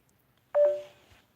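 A single short phone notification tone sounds once, a clean electronic beep that rises quickly and fades, close and alone against near silence.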